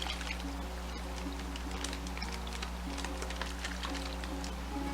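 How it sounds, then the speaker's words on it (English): Marinade pours from a container onto ribs sealed in a Ziploc bag, a soft continuous trickle and splash over a low steady hum with no one talking. "Now we're going to add our marinade onto the ribs."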